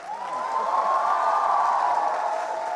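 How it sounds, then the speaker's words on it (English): A crowd at a talk event in Jaipur claps and cheers in a sustained, even roar that swells slightly and then eases, with no speech over it. "Come on, I want to hear a louder applause"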